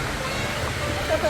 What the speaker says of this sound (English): Wow, we have another waterfall.